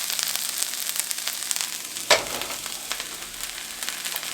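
Bacon fries in a pan on a stovetop with a constant crackling sizzle, close and fairly loud, broken by one sharp spitting pop of grease partway through.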